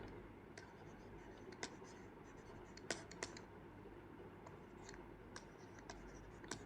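Handwriting in a study lesson, a slogan written out stroke by stroke. Soft, dry scratching comes in short strokes with a few sharper ticks, faint and close in a quiet room.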